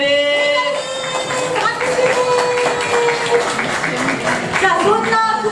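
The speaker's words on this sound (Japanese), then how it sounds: "拍手" An audience at a Kumamon Square stage event with guest Kurihei-kun applauds steadily throughout, the clapping running continuously beneath someone talking over it.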